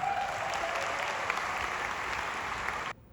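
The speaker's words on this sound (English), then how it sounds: "I think we should all clap it up for the organizers." Conference audience in Abu Dhabi applauds the organizers, a full, steady roar of many hands clapping at even volume, cutting off abruptly near the end.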